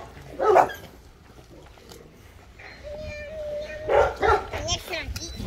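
Puppies yip and whimper in short, high-pitched bursts, with a thin whine in the middle, while people talk nearby.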